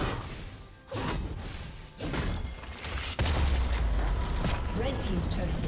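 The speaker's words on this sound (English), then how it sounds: "Red team's turret has been destroyed." Turret destruction in a League of Legends top-lane match, Renekton versus Poppy: a series of loud booming crashes and thuds, the heaviest near the end, over continuous game noise.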